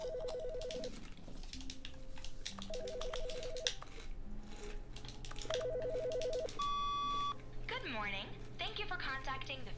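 A telephone in The Stanley Parable video game rings in repeated bursts of two-tone tones, then is picked up, followed by beeping tones and a recorded message, with a person talking over it.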